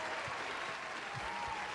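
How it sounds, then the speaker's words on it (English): Continuous crowd applause plays steadily at moderate volume during a live sports betting stream, an even, unbroken hiss of many hands with no clear pauses. "Keep the applause going"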